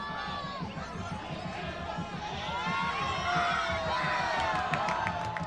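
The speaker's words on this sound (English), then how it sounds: "that is what the cheering was for when a fan caught it" A minor-league baseball crowd at a Ducks versus Bluefish game cheers and whoops as a fan catches a foul ball, a swelling roar of shouts and chatter from the stands.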